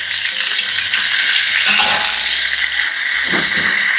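Cucumber leaves stir-frying with anchovies and garlic in a pan, a steady loud sizzle and hiss throughout with occasional stirring scrapes.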